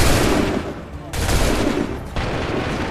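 Video game gunfire ordered by the player, heavy continuous shooting with bursts starting abruptly in two waves, loud and dense, with voices mixed in.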